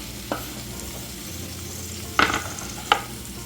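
Cumin, asafoetida and finely chopped onion sauté in hot oil with a low, steady sizzle, broken by three short scrapes of a spatula, close and moderately loud, with no talking.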